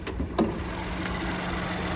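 A 2025 Buick Encore GX's 1.2-liter turbocharged three-cylinder engine idling with the hood open, a steady ticking hum, close and even, after a couple of brief clicks at the start.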